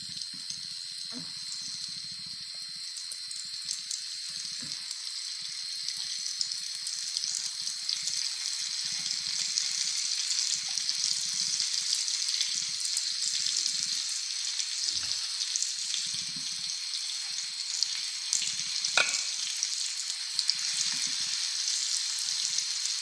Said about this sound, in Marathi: आता मी यामध्ये मच्छी फ्रायसाठी ठेवत आहे